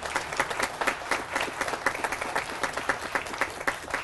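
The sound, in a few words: audience applause for Felipe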